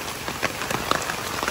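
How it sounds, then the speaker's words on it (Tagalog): Heavy rain pours during a storm, a dense, loud, continuous hiss of drops pattering on surfaces close by, with no voices. "Malakas ang ulan guys. May bagyo."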